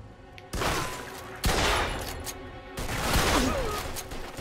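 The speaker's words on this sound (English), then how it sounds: "They shoot from up top!" Gunfire in a shootout in Mafia 2 Definitive Edition, loud bursts of shots with a sharp onset, dense and echoing over several seconds.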